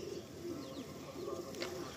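Pigeons at an old loft in Kolkata, heard as soft, low, rolling coos repeating close by over a steady background hiss, with a faint higher chirp.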